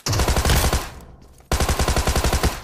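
Loud automatic gunfire in PUBG Mobile, two rapid bursts of rhythmic shots separated by a brief lull with a fading tail, close and with no talk.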